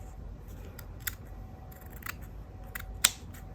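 Scissors snip through scrapbook paper while crafting little paper houses, a few sparse, faint, close cuts over a quiet room hum, with no talking.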